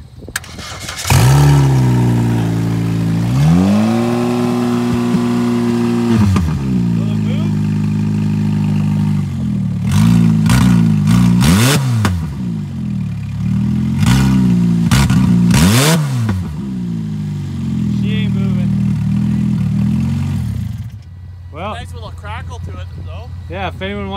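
An old Saturn car engine is revved hard at wide open throttle, rising and falling through several loud, sustained sweeps before dropping back to idle, with voices talking over it.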